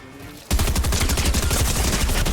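Rapid, sustained SMG fire in the video game Fortnite starts abruptly and continues as a dense, loud stream of shots up close.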